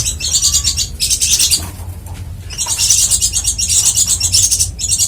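A chorus of white-eye birds chirps rapidly and continuously at close range in an aviary, in thin, high twittering bursts with brief pauses between them.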